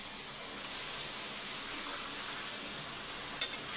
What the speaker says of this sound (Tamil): எண்ணெய் நல்லா சூடாக இருக்குது. இதுலேயே அப்பளத்தை பொரித்து எடுத்துக்கலாம்.